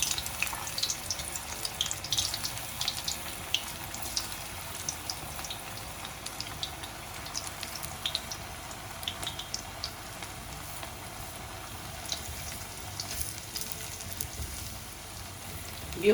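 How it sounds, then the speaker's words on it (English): Vegetable manchurian balls fry in oil that is not very hot, giving a steady, soft crackling hiss like light rain that carries on evenly for the whole stretch with no talking. "Now I'm going to fry them into this oil."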